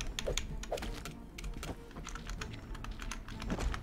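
Computer keyboard keys pressed during play of the game Moonlighter, a steady, rapid run of sharp clicks and taps with no pauses, close and fairly loud, with no talking.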